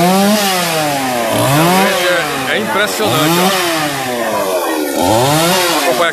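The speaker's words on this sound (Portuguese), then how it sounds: "tem um motosserra ali, ó." Chainsaw cutting up a fallen tree that blocked an avenue in São João dos Patos, revving up and down in repeated loud surges close by, with someone talking over it.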